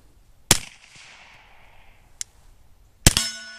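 A suppressed .45 pistol shot hits a steel target, giving a sharp close crack and a metallic clang that rings and fades. A second, fainter impact follows, then another loud shot with a longer ringing ping.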